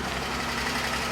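A vintage Jaguar engine idling too high gives a steady, dense mechanical hum with a fast, even running pulse, close and constant for about a second with no voices.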